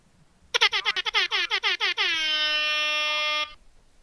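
Air horn blast from the Rap Air Horn phone app: a quick series of about eight short staccato honks followed by one long sustained blare, loud and alone.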